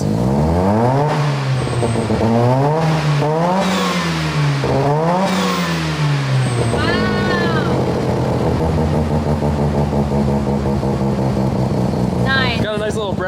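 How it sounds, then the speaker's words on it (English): Rotary-engine project car revving, several quick rising and falling blips up close at first, then settling to a steady idle with a final short rev, loud, with talk nearby. "Yeah, you give it a couple little revs."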